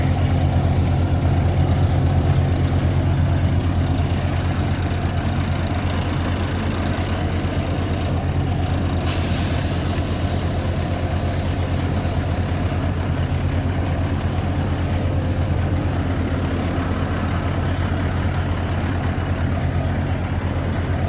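A truck idles and rumbles steadily beside a forage chopper during third-cutting harvest, a loud continuous engine drone with a brief hiss of air partway through.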